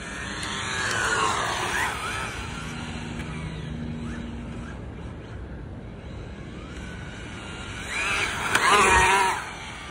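Arrma Vendetta 3S electric RC car drifting, motor whine rising and sweeping in pitch as it slides, with tire scuffing, fading mid-run and surging again near the end.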